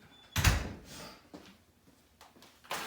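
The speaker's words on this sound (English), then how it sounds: "let me close the door." A single door thumps shut nearby, followed by faint rustling and a couple of softer knocks in a quiet room.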